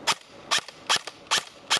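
A waterlogged airsoft gun fires blank shots: five sharp, evenly spaced pops about every 0.4 seconds, loud and close, each snap followed by a faint echo, with no talking.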